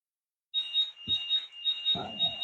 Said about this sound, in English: that beeping noise is the battery I've just charged up